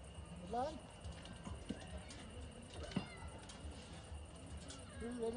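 A rescued cat meows several times after firefighters bring it down from a tree by ladder, the short cries faint amid outdoor crowd noise and talk.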